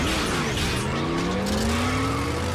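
Animated Transformers robots in car form pull away with a loud, continuous tire squeal as engines rise in pitch, filling the whole moment with no talk.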